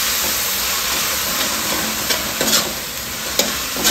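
Bagoong (shrimp paste) is sautéed in a pan for a pinakbet and green-mango meal, giving a loud continuous hiss of frying with a few sharper spatula clicks near the end.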